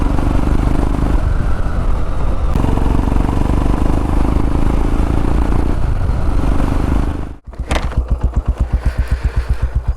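A motorbike engine drones steadily while riding a forest road near Dharmasthala in Dakshina Kannada, loud and close. It cuts out briefly, then settles into a rhythmic, pulsing idle.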